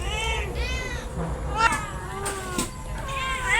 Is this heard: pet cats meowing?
yes